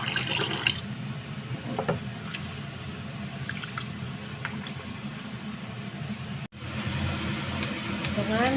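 Rice being washed in water, with sloshing, trickling and dripping close by throughout and a brief pause near the end, while a voice talks over it.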